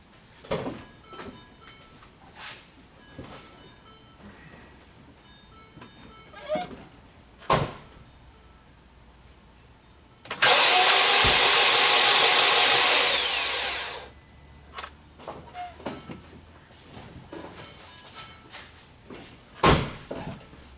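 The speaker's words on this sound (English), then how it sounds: "you can hear it just sounds like the engine is just turning over" A 2007 Mini Cooper S R56 engine cranks steadily for about four seconds without catching, a loud whirring burst amid quiet clicks and knocks.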